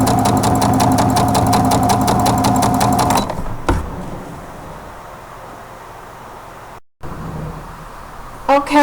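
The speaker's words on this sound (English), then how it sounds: "And you just keep going until you get all of yours chain stitched together." A sewing machine chain-stitches quilt pieces for a Dresden plate candle mat, a loud close rapid whir for about three seconds, then it stops, leaving quiet handling noises and a brief final burst.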